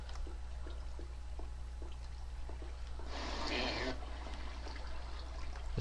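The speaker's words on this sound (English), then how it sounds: "You hear that water?" Flowing water in Minecraft, a faint pouring and trickling gush that swells briefly for about a second amid quiet ambience and soft tapping steps.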